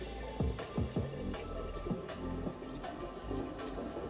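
Liquid pours steadily into a container while making mead, a continuous gurgling splash with a few glugging bursts near the start, close up and moderately loud.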